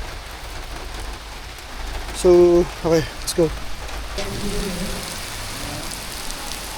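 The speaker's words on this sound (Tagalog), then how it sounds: "Lakas ng ulan, grabe." Heavy rain pours down in a dense, steady hiss throughout at a duathlon, while someone speaks briefly in Filipino in the middle and a faint voice follows.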